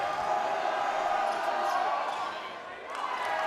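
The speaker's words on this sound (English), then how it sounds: "we are starting to hear it from the LM crowd" A high school basketball crowd at Lower Merion murmurs and cheers as a steady wash of noise, with a commentator talking over it throughout.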